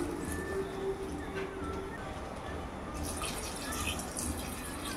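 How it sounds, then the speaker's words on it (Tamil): Water poured into a pan of sizzling sambar vegetables, making a steady, soft splashing hiss that swells partway through, with faint background noise. "அதனால் தண்ணி ஊற்றிடலாம்."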